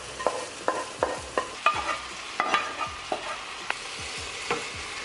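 A sweet and salty sauce being stirred together in a frying pan, with a spoon or spatula scraping and clacking against the pan in a steady run of knocks over a low sizzle, close by and with no voices.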